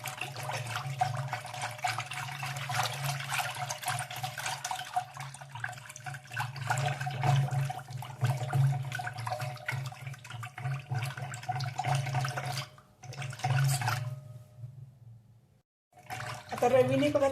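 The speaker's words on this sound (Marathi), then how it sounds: "आता रवीच्या साहाय्याने हे चांगलं हलवून एकजीव करून घेऊया" Buttermilk mixed with cold water is churned with a wooden ravi, giving a continuous wet sloshing and swishing over a steady low hum, with a brief break near the end before the churning resumes.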